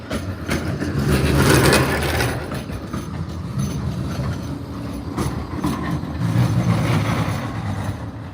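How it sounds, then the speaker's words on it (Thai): A tram rumbles past on a seaside street at steady volume, a broad mechanical roar with faint rail clatter that swells and eases. "อันนี้เป็นรถแทรม"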